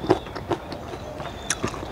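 Crunchy green guava and mango pieces, sweetened with sugar, bitten and chewed up close, several sharp crisp crunches spaced through the moment with quiet chewing between them.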